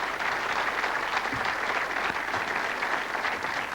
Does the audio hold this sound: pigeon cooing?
no